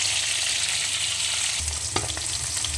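Fish pieces, including local mirika fish, frying in hot oil with spices, giving a steady loud sizzle throughout with a few brief clatters near the end.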